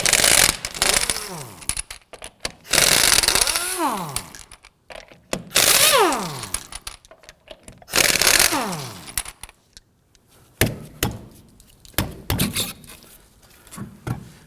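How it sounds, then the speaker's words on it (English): Impact wrench loosening the rear lug nuts on a 2008-2011 Ford Focus with a 19mm socket, several loud buzzing bursts with falling pitch sweeps, separated by pauses and clanks of handling. "Now we're going to use our 19mm socket to loosen and remove the lug nuts"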